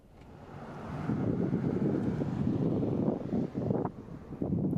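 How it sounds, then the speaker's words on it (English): Wind gusting across the microphone at a lakeside vista point above Canyon Lake, Arizona, a steady low rumble that swells after the first second and stays strong throughout, with no voices. "It was a little bit windy"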